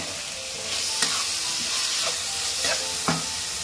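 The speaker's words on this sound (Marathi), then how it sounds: "तर आपला लसूण मी आता हा थोडा बारीक करून घेतलेला आहे, तो पण चांगला भाजून घ्यायचा" Finely chopped garlic sizzles in a hot pan for a burrito bowl, a close steady frying hiss broken by a few sharp stirring clicks of a utensil against the pan.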